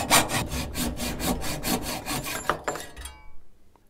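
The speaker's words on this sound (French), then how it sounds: "Pour couper un pivot de fourche, même si c'est de l'aluminium, je vous conseille de prendre une lame neuve" Hacksaw with a new blade cutting an aluminium steerer tube on a mountain bike fork, a close, rhythmic rasp of about a dozen even back-and-forth strokes that ends as the cut finishes, with no talk.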